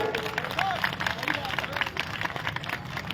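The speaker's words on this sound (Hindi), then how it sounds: "ताली बजाइए।" A crowd at an outdoor political election rally claps in a loose, rather distant patter of applause, with crowd chatter and murmuring mixed in.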